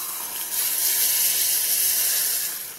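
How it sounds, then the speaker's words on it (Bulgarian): Liquid nitrogen poured into a container starts to boil, giving a steady, loud, airy hiss and fizz that swells after the first half-second and then slowly fades. "Сипвам от течния азот тук, той започна да ври."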